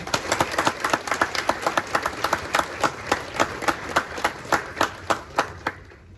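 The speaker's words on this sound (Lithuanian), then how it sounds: "Audringais plojimais pasitikite licėjaus senato narę, viceprezidentę Viltę Sapožnikovaitę." Audience at a school ceremony clapping to welcome a speaker, a rhythmic, evenly paced round of applause that thins into a few final claps before fading out.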